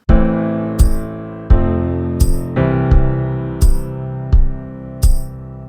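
Piano chords from a pop song's intro progression struck one after another in a slow, even progression, each ringing out before the next, played alone.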